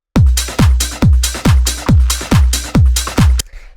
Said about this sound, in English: We start up here with these drums, which all together sound like this.